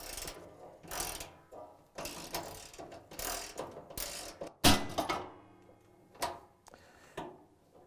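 Ratchet loosening the eye bolt on a Whirlpool/KitchenAid/Maytag washer suspension spring, with repeated bursts of close, loud clicking separated by short pauses and no talk.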